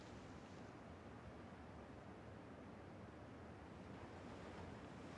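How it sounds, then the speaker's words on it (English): Steady ocean surf in the PUBG video game, a continuous broadband wash of breaking waves with wind-like hiss, even and unbroken throughout, heard alone without voices. "I hear the ocean."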